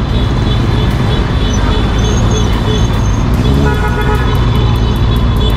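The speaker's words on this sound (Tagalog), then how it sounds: "nagbubusina na yung tropa." Car horns toot repeatedly in loud, dense street traffic, with engines and road rumble filling the background and short honks breaking through above the steady din.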